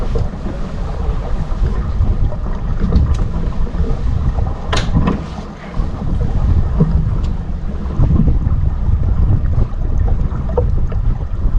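Strong wind roars across the microphone aboard a keelboat during a sailing race, a loud continuous buffeting rush with water wash underneath and a brief lull midway.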